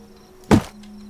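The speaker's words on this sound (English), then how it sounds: "And I even hear a guy doing upgrades to his base." A single dull thunk of base upgrading in the survival game Rust, one short solid impact standing out against a faint steady background hum, moderately loud and alone.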